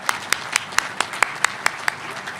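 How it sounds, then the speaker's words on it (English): Applause for donors at an alumni center dedication ceremony: a sparse run of sharp, evenly spaced claps at a moderate level, sounding like only a few people clapping. "give your applause to these donors"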